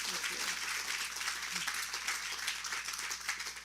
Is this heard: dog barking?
no